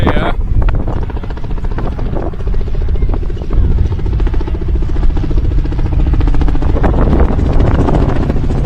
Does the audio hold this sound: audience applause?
no